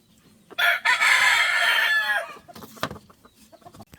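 One loud junglefowl rooster crow up close, a long harmonic call that trails off, followed by a few faint clucks and rustles.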